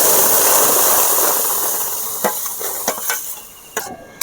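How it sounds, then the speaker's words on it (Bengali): Grated ripe mango pulp cooks in a wok over low heat, a loud frying hiss fading away as a spoon scrapes and taps the metal in a few separate strokes. "এবারে আমি হালকা জালে পাকা আমের মাড়িটা ফুটিয়ে ফুটিয়ে টাইট করে নেব।"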